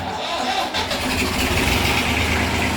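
An old Massey tractor diesel engine runs close by with a steady, knocking chug and a rough mechanical rattle.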